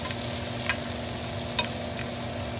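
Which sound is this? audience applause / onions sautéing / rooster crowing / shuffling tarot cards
onions sautéing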